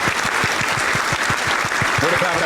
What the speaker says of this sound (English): Way to clap it up.